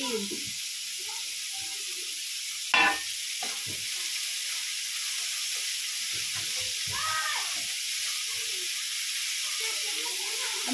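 Coriander leaves and onion leaves hit a hot pan and fry with a steady, bright sizzling hiss, one sharp clack near the start, and faint scattered stirring sounds beneath, continuous and close.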